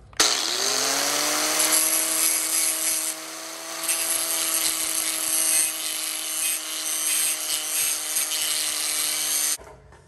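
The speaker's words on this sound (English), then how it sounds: "here's some shit hot grinding action" An angle grinder grinds a radius into the inside edge of a steel bracket for a speedway motorcycle fender push bar, a loud, steady high whine lasting several seconds with slight load changes and no talking.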